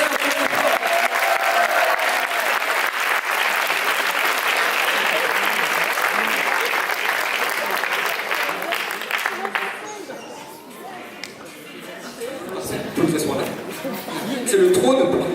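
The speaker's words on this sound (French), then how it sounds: "Vous pouvez l'applaudir très fort." Audience loudly applauding a teacher called up on stage at a student show, dense sustained clapping for about ten seconds that fades out, followed by scattered laughter and voices.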